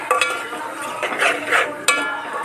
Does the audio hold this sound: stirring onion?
yes